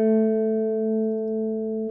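A sampled open-guitar instrument in Ableton Live plays a MIDI line converted from audio, layered with the original recording. A single sustained tone rings clearly for about two seconds, with a faint low note entering partway through.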